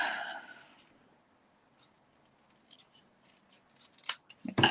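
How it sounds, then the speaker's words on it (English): Scissors cut card-making paper in a string of short, crisp snips, quiet at first and then quicker and louder toward the end, after a brief rustle at the start. "I'm going to try and cut this straight."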